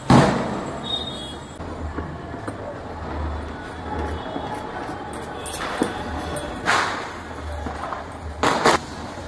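Firecrackers go off on a balcony during Diwali celebrations, with a few sharp bursts popping out late over steady background noise and distant crackle, loud and close.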